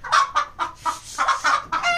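Hen and rooster clucking close by, a series of loud, sharp, repeated clucks in an uneven rhythm.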